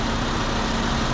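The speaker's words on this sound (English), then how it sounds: "Let's go ahead and start this engine." A Volkswagen Jetta 2.5 engine idles loud and close, a steady low rumble held for about a second with no starting crank evident.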